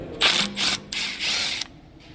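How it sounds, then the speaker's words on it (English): A T30 brake rotor retaining screw being backed out with a hand tool during a brake job: a handful of close, short ratcheting and scraping bursts with brief pauses between them. "Now let's remove the brake rotor returning screw T30."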